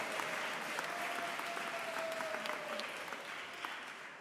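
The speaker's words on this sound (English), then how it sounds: "you weren't supposed to clap that" Soft, distant applause spreads across a graduation ceremony hall, many hands clapping in an even patter that slowly fades toward the end while a faint steady tone hums underneath.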